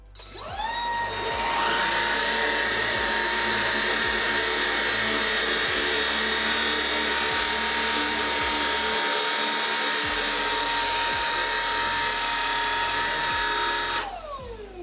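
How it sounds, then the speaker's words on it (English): A Shark cordless vacuum cleaner runs on low power over carpet, a steady high whine that spins up, holds continuously and loudly for about thirteen seconds, then winds down, with no voices. "So first I'll use the Shark on its low power mode."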